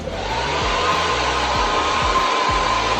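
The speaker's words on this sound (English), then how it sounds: "So what I do is I just take my hairdryer" A hair dryer blows steadily and loudly up close to soften the stiff bristles of a new hairbrush. The airflow is a constant whoosh, and a few faint low knocks sound beneath it.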